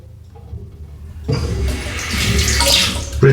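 A bathroom tap turns on after a quiet moment and water gushes steadily into a sink for rinsing after a shave, close and fairly loud.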